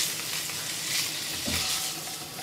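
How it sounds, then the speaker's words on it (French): Onions and lardons fry in melting butter, a steady close broadband sizzle with soft crackle and a brief stir partway through, no voices. "Les oignons et les lardons. Dans le beurre qui est en train de fondre. Et on va les faire dorer légèrement."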